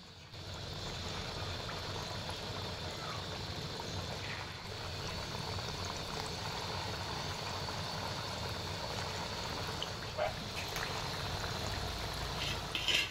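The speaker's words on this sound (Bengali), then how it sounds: "এবার রসবড়াগুলো একটা একটা করে দিয়ে দেব তেলের মধ্যে।" Flattened rice (chira) rasbora dumplings, a Bengali sweet, frying in hot oil over medium heat, giving a steady broadband sizzle and bubbling that runs unbroken throughout with a few brief crackles near the end, no talking.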